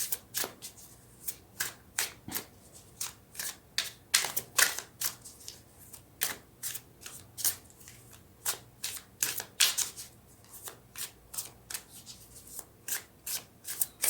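Tarot cards are shuffled close by in quick, soft repeated riffles and flicks, a steady rhythm of short papery bursts in a quiet room.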